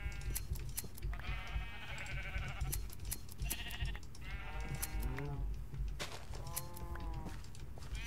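Several sheep in Minecraft bleat repeatedly, overlapping one another in quick succession over a steady background hum.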